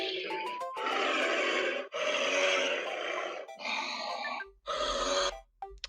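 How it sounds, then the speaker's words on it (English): Brown bear vocalization heard as a run of loud, breathy growling roars in several long bursts with short gaps, close and harsh. "Let's see what noise brown bears make."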